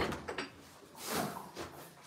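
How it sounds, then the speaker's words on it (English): A door closing indoors at an animal sanctuary, a couple of dull knocks and a louder thud midway, fairly close, with no talk over it. "Let's make sure that door's closed."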